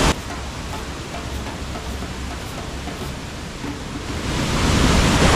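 Steady roar of Kuang Si waterfall in Laos, a dense constant rush of falling water heard close by and alone, swelling a little louder toward the end.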